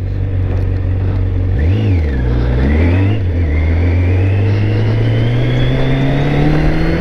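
A 1999 Kawasaki ZZR 600 motorcycle engine, loud and close, blipped twice in quick succession, then revving steadily upward in a long climbing whine that keeps rising to the end.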